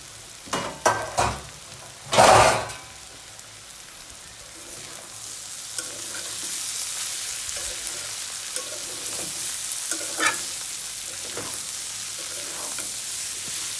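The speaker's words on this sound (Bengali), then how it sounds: "এবার নাড়াচাড়া করে আবারও কাঁচা পেঁয়াজ কিছুটা দেবো" Bitter gourd fry stirred in a pan with raw onion added, giving a few scraping clatters of the spatula early on, then a steady soft sizzle of frying throughout, close and moderate in loudness.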